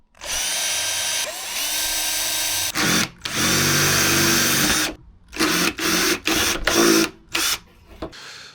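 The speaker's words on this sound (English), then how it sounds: "drill a small hole, then go bigger" A power drill whines loudly in a long steady run, then in several short bursts that stop and start in quick succession, drilling a hole in a race fairing for a Suzuki GSXR750.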